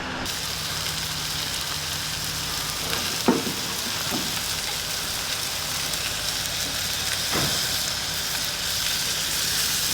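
Mantis shrimp sizzle and fry in butter over hot charcoal briquettes, a steady crackling hiss throughout with a few sharp clinks of utensils, close and moderately loud with no talking.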